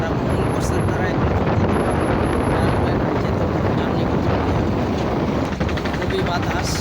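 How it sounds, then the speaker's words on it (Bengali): Strong wind buffets a river ferry deck on a trip from Dhaka's Sadarghat to Fatullah, a steady loud roaring rush throughout with someone talking over it. "খুবই বাতাস।"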